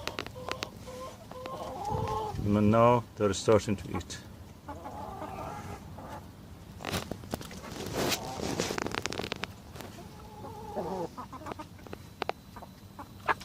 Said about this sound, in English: these are the chicks, 22 weeks old